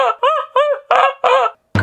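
A person imitates an aggressive goose about to attack, giving five loud, nasal honking squawks in quick rhythmic succession, each with a rising-falling whine, followed by a short harsh burst.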